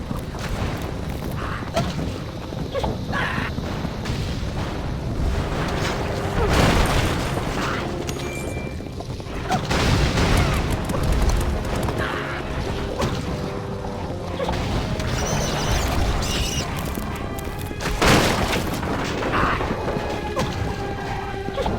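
Repeated bomb blasts shattering scorpion nests in the game Kameo: Elements of Power, with several booming crashes scattered over a dense, continuous wash of game sound and music.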